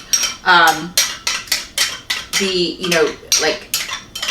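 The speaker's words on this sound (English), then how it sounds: "you want to make sure you get the flour and the baking soda and the cornstarch all mixed up" Spoon or utensil stirring flour, baking soda and cornstarch in a bowl for soft chocolate chip cookies, a steady series of close, loud scraping and clinking strokes with no talk.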